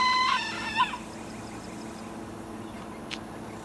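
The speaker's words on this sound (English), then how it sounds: "I know some of you have been wanting to see my hens and roosters" A backyard rooster crows once near the start, then a brief cluck follows, leaving quiet low farmyard hum with a faint distant squeak later on.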